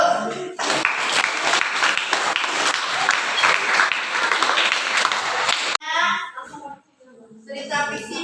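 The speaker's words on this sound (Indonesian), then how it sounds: "Kasih aplaus." Classmates in a school classroom burst into steady applause after a group's presentation, a dense clapping that runs for several seconds and then stops abruptly, followed by a few scattered claps and quiet voices.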